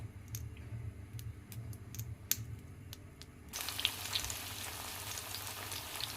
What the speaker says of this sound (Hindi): तो हमारा मूंगफली का तेल है, इसी में बड़ा को हम बना रहे हैं।